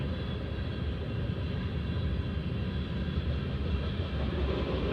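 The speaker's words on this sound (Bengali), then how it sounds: "অনেক সময় হয়ে গেছে ট্রেনটা কিন্তু শেষ হয়" A long freight train of coal wagons rolls past, making a steady, dense rumble that holds at the same level from start to finish, with no voices.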